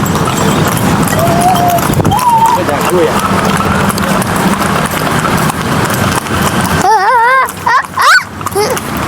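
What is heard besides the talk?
horse hooves clip-clopping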